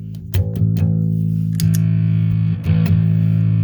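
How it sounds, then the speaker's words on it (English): Bass guitar run through a fuzz pedal and a distortion pedal with a clean blend, sustained thick distorted low notes with a few plucked attacks, loud and close with no talk. "then I'm going into a distortion that's got a blend in it"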